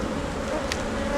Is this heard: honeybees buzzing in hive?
yes